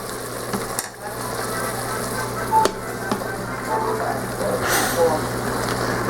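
Chopped vegetables tumble into a hot Instant Pot pressure cooker already sizzling with garlic, setting off a steady loud frying hiss with a few stirring clatters and a short burst of louder sizzle near the end.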